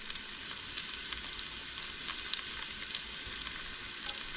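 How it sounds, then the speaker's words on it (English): Onions fry in a pan with a steady, close hiss of sizzling, dotted with small pops and crackles throughout, heard alone with no voices. "I'm over here fussing over these onions."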